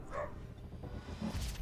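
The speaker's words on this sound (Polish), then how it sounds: "Ej, pies, co się odzywasz?" A dog indoors gives two short, faint barks, spaced about a second apart, sounding somewhat distant.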